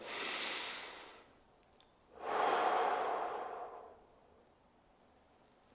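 Two long, deep breaths during a neck stretch, a drawn-out exhale followed by a pause and a second fuller breath, close and breathy with no talking.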